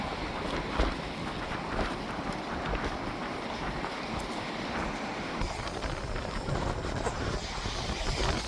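Cold wind blows hard through an outdoor spot in Scarborough, Canada, mixed with falling rain, giving a constant broad rushing roar that buffets the microphone at a steady loudness with no voices.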